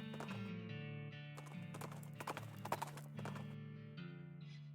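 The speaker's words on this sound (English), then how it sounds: "Grim-looking cowboy rides up and blocks your path." Horse hooves clip-clopping in a video game as a cowboy rides up, a quick run of hoof beats over a sustained musical background, fairly faint.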